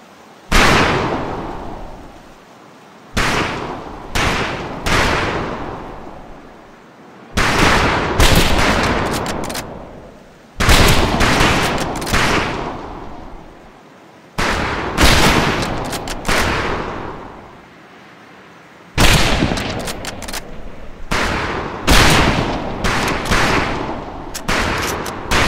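Rifle fire on a Medal of Honor Pacific Assault firing range: loud volleys of overlapping shots crack out in bursts separated by short pauses, each volley echoing and trailing off, with no voices.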